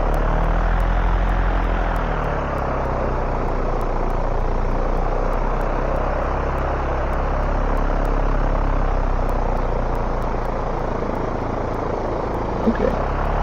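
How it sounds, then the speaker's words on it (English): A small aircraft's engine drones steadily while it taxis in the X-Plane flight simulator, a continuous, loud, even propeller hum with faint periodic clicks and no speech. "So let's taxi our nice little aircraft here."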